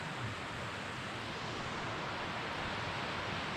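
River water rushes steadily close by, a dense continuous broadband wash with no pauses, near a canoeing and rafting spot in Český Krumlov.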